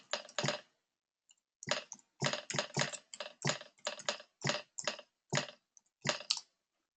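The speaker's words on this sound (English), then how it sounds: "I'm doing the one-handed typing just for momentarily" Someone types one-handed on a computer keyboard, producing crisp clustered bursts of key clicks separated by short pauses, close and clear with no voices.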